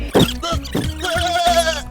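Goats bleat at a goat market in a run of loud, close, wavering calls, one after another.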